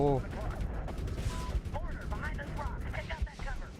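Heavy gunfire from the video game Medal of Honor (2010), a couple of sharp booming shots from a big gun amid busy game noise, with voices chattering over it.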